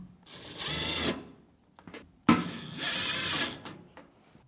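Screws being driven back into the top panel of a Whirlpool washer, heard as two separate bursts of a power driver whirring, each about a second long, with quiet gaps between them.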